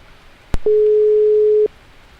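A telephone ringback tone plays once while a call is placed, a single steady one-second beep that follows a sharp click, with quiet background before and after.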